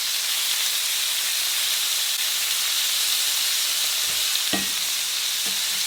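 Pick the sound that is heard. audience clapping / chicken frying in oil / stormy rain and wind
chicken frying in oil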